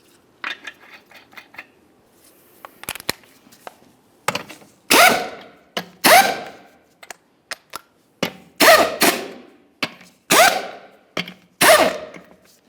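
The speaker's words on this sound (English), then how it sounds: "Start on all 5 of your 22mm lug nuts." Lug nuts being run onto a rear wheel of a 2005-2010 Dodge Dakota with a tool, heard as bursts of clattering, ratcheting metal: several sharp, loud close-up spurts after a stretch of lighter clicks and taps, with no talk.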